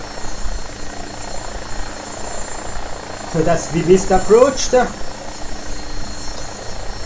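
An AgustaWestland AW109SP helicopter in a flight simulator game flying a missed approach gives a steady, droning rotor and engine hum throughout, while someone talks over it.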